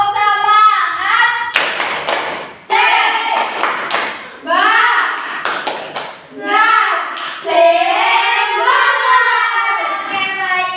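A class of children claps through the 'tepuk semangat' ice-breaker routine, loud rhythmic bursts of hand claps alternating with a teacher's chanted calls and the pupils' voices.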